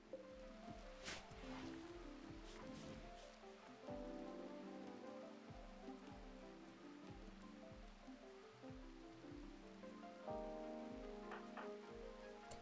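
Rain falls steadily in the video game Anomaly, a soft continuous patter under rhythmic low game music and occasional thuds, with no talking.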